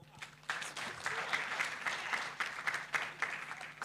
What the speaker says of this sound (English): Can we please clap for